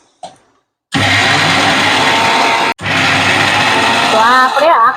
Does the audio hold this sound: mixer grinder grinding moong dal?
yes